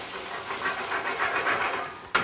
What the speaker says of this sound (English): Now, I'm ready to add the white wine vinegar